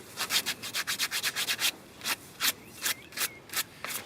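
A hand rasp files the tip of a cow's horn in quick, regular scraping strokes, close up, first in a rapid run and then in slower, spaced passes, with no talk.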